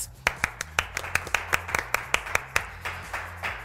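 Applause greets a jazz group on a television program: a small audience claps in sharp, distinct hits, almost in a rhythmic beat, with a low musical hum underneath.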